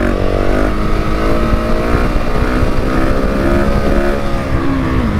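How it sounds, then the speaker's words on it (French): A 2019 KTM 690 SMC R single-cylinder engine revs high near its rev limiter, a loud, close, strained buzz with rising and falling pitch under throttle. "vous entendez au bruit comme elle est près du rupteur"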